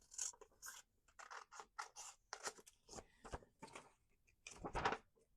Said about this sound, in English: I'm just going to cut this down the middle.